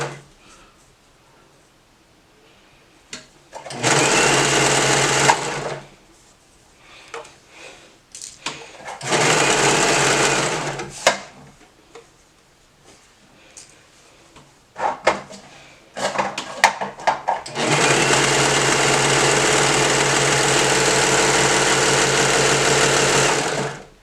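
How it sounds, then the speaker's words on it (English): Sewing machine stitching the crotch seam of a fabric romper in short bursts: a whirring run, a pause with handling clicks, another run, more rustling, then a longer sustained stitch, all close. "Now you can see that we sewed the crotch."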